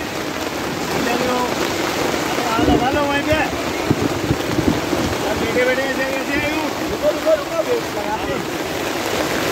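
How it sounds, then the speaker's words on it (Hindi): Heavy rain in a storm at an outdoor religious community feast: steady rain hiss with water splashing and rushing, a continuous wet wash filling the scene, with some voices faintly mixed in. "बारिश बहुत हो रही है"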